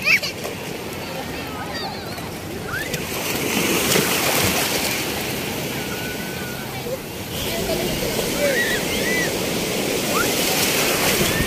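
Ocean waves wash steadily at a Pangasinan beach in summer, a broad continuous surf roar with gentle swells in loudness, while people chat and call out nearby.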